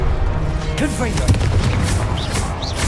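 A Confringo spell explodes in Hogwarts Legacy with a booming, crashing blast and lingering rumble, mixed with game effects and a voice.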